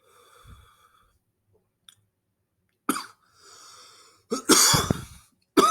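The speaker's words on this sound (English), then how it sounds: "Pretty sure you're going to hear me cough up quite a bit." Harsh, close coughing after smoking Curaleaf Purple Empire cannabis: a quiet stretch, then a hacking burst, a longer fit of rough coughs, and one more cough at the end, with no talk.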